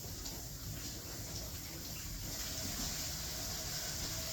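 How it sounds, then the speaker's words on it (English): Tap water runs steadily over broccoli rinsed in a kitchen sink, a faint, continuous splashing hiss with no voices. "I'm going to rinse out my broccoli"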